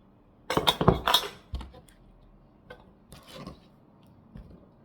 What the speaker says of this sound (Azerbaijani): İndi isə tavama qoyuram.